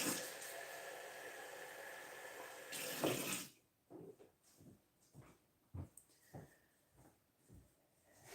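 A tap runs water into a container for rinsing a paintbrush, a steady close gush that cuts off abruptly, followed by quiet intermittent clinks and small handling knocks.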